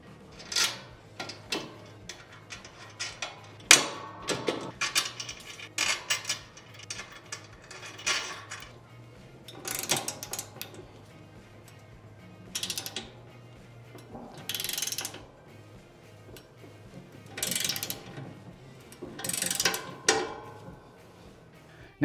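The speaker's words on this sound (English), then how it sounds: "let's go ahead and use our mounting bolts to mount the wing to the plow" Mounting bolts fasten a Tusk Subzero plow wing onto an ATV/UTV snow plow, heard as intermittent ratchet clicks and metallic clanks in short bursts separated by quiet pauses, close by and with no talking.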